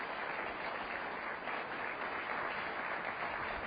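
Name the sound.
audience applause welcoming panelists to the stage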